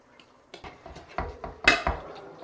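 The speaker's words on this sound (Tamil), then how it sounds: "அதனால தான் பெரிய தவாவில் போட்டு சரி ஒரு டைம் கிளறிடலாம் அப்படின்ட்டு" Metal utensil scraping and clanking against a large tawa pan while biryani made with seeraga samba rice is stirred, irregular knocks building to a few louder clatters near the end, no talking.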